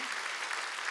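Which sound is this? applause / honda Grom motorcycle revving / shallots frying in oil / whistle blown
applause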